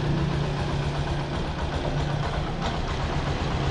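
Yamaha YTX motorcycle engine idling nearby with a steady, loud, low rumbling putter that holds even throughout, alone without voices.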